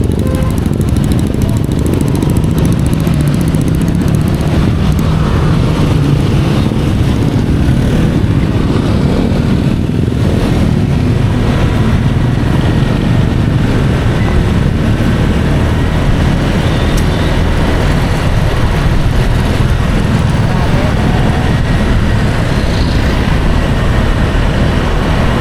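A scooter ride through traffic past roadside shops, with steady engine drone and road noise mixed with passing vehicles, continuous and fairly loud throughout, with no talking.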